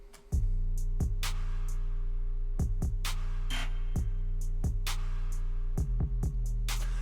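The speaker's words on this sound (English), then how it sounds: "So the drums just themselves sound like this." A drum pattern with booming low 808 kicks and snappy hits, each trailed by a washy reverb tail, playing alone in a steady groove.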